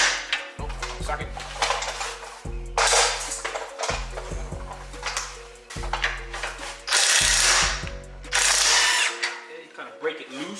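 Ratchet with a socket loosening a bolt while fitting airbags on a Genesis G70, bursts of rapid ratcheting clicks with metallic clinks and handling noise in between.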